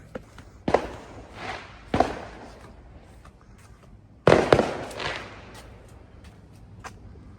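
Fireworks pop in the evening outdoors near 10 pm on the longest day of the year, several sharp bursts spread apart, with one loud cluster of crackling pops in the middle and quieter popping afterward.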